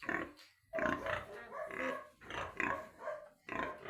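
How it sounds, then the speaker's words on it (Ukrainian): Several young pigs grunting and oinking up close in a farm pen, a run of short bursts with brief pauses between them. "Ці поросятки ці свині, це вже не поросятки, це вже свині, все в них добре."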